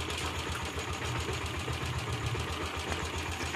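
A car engine idles loudly and steadily in a repair setting where a low-battery charging problem is being diagnosed, giving a dense continuous rumble with a faint knocking pulse and no talk over it.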